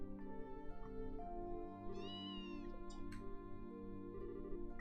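In the game Trails in the Sky SC, a cat gives a single short meow over looping background music, quiet and mid-distance, with a few small game sound effects around it.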